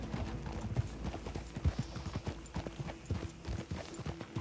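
Horse hooves clip-clop at a steady walking rhythm in the video game Red Dead Redemption 2, the regular close hoofbeats clear against a quiet background.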